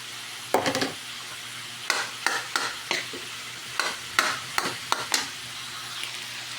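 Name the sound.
rice frying in a pan for fried rice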